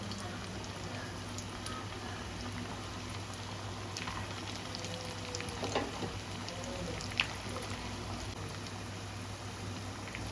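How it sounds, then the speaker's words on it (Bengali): Fish chops fry in hot oil with a steady, soft bubbling crackle that continues unbroken throughout. "তেলটা গরম হয়ে গেছে এখন চপগুলো ভেজে নেব"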